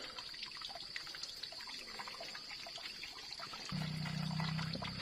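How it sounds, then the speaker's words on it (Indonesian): Water pours and trickles steadily into a sprayer tank, close by, with the flow growing fuller and louder near the end. "Masukkan aja air dalam tuh nanti biar habis."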